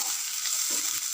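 A pan of fried tomato and mint mixture gets stirred as salt goes in, a brief close sizzling scrape with a steady hiss throughout.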